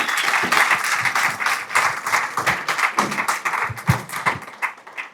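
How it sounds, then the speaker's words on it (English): An audience applauds a presenter being introduced at a Pechakucha Bermuda evening, a steady full-room round of clapping with scattered sharper claps throughout, loud and continuous. "please give a big round of applause to Leire Hernández Ostalaza"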